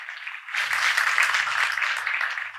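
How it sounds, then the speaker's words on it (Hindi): A church congregation claps to welcome first-time visitors, a dense, continuous burst of applause from a crowd that swells and holds for a couple of seconds, with a faint low hum beneath. "ओके, तालियों के साथ हम इनका स्वागत करें।"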